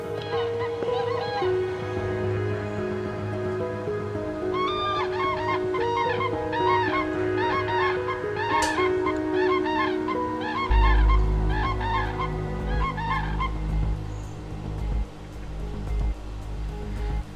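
Distant calls of common cranes rise over a steady wash of water or wind noise, with a cluster of repeated honking, trumpeting notes in the middle.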